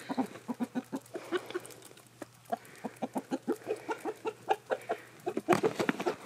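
Several backyard chickens cluck in quick, rapid bursts as they squabble over black soldier fly larvae, close and lively, with a short pause partway through.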